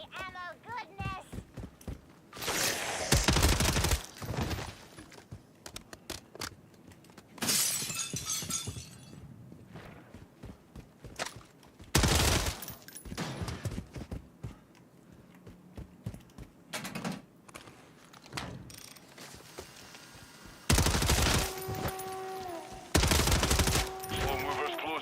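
Hip-fire gunshots in Call of Duty MWZ come in several loud, sharp bursts of rapid fire separated by quieter gaps, with game chatter and other sounds between them.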